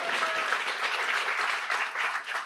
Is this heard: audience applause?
yes